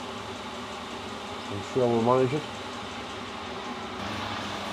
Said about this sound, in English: The noise you're hearing in the background is my little diesel heater running